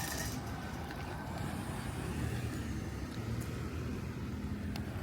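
A car passes along a street in Hiroshima, a steady mid-distance engine and tyre rumble with light traffic noise around it and no voices.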